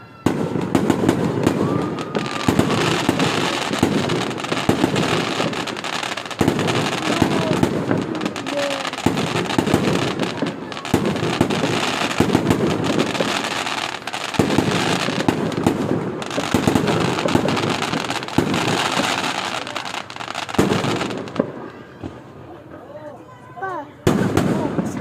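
Fireworks burst repeatedly with loud booms and crackles, heard from a window, going off in quick succession before briefly easing near the end, while voices talk and exclaim in between.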